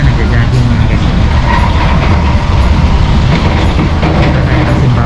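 A Singapore MRT train runs at Sembawang station with a steady, loud rolling rumble and rattle that fills the whole stretch, with faint voices underneath.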